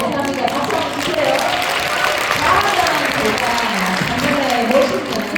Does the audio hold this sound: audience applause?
yes